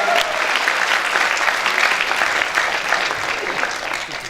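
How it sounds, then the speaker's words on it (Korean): Steady, dense applause from an audience at a Democratic Party youth members' rally fills the whole stretch, loud and even without a break. "큰 박수 부탁드리도록 하겠습니다"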